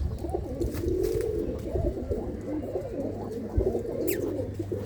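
A black-tailed pigeon coos in repeated low, throaty rolls close by, steady over several seconds with a faint background hum and no speech.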